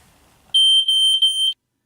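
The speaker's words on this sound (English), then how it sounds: "Press the smoke detector in order to test to see if it is working." A smoke detector sounds its test alarm: one loud, shrill continuous beep about a second long that flutters slightly in level, then cuts to silence.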